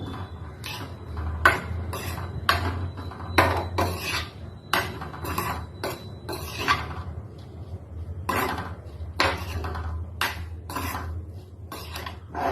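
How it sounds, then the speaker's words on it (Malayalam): Soya chunks are stirred in a pan with a spoon, giving repeated close scraping and clinking strokes at an irregular rhythm, fairly quiet with short gaps. "നന്നായിട്ട് ഇളക്കി കൊടുക്കാം."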